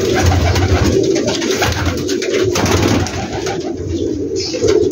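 Slate grey pigeons on a large rooftop loft in Gujranwala cooing steadily, a dense, close chorus of low throaty coos from many birds without a pause.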